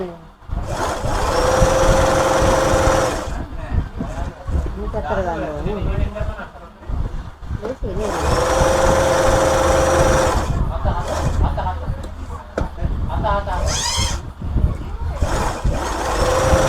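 A sewing machine runs in long steady bursts while stitching a buttonhole, its motor whirring loudly with pauses between runs as a person talks throughout.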